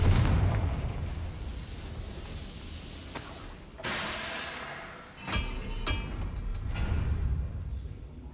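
A Confringo blasting spell explodes in Hogwarts Legacy, a loud booming burst followed by sharper crackling blasts over a continuous low rumble of game ambience.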